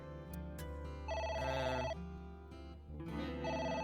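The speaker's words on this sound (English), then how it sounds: "It's the phone." A telephone in AI: The Somnium Files rings in bursts, with bright, warbling electronic tones repeating twice with a short gap, fairly loud against a steady low game background hum.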